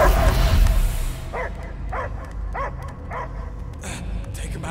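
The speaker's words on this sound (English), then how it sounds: "I hear only barking." Dog barking in Marvel's Guardians of the Galaxy video game: a run of five or six evenly spaced barks over a steady background of game music and ambience, after an opening burst of noise.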